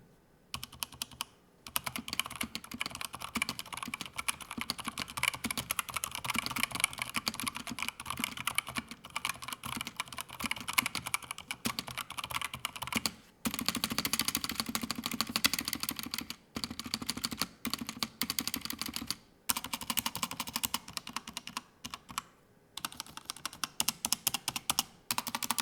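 Continuous typing on a Razer keyboard with Razer Yellow linear switches: a dense, quick run of soft, smooth keystrokes with a few brief pauses, close and alone.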